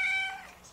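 A cat gives one short, clear meow up close. The tone slides downward and then fades into quiet within a second.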